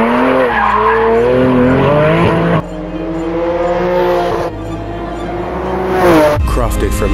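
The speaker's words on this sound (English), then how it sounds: "What do I love about the Kline-Innovation exhaust? It's the exotic materials, the carbon fiber, the Inconel. But most of all, it's that natural aspirated sound." A Porsche 992 Turbo fitted with a Kline-Innovation Inconel and carbon fiber race exhaust revs hard, loud and close, its rising and falling engine tone shifting through gears with tire squeal, cutting off near the end.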